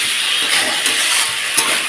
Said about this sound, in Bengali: তো দেখো মশলাটা দিয়ে ভালোভাবে একটু কষিয়ে নেওয়া হয়ে গেছে।